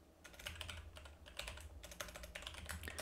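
Rapid typing on a computer keyboard while coding CSS, a close, steady patter of crisp key clicks running continuously with no talking.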